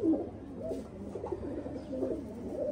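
Inside a winter loft, high-flying pigeons give repeated throaty coos in overlapping phrases, fairly close and steady, with a faint background hiss.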